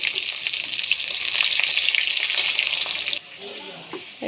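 Hot oil already frying cinnamon, cardamom and bay leaves gives a steady, bright sizzle with crackles, then cuts down sharply to a quieter hiss as chopped onions go into the pan near the end.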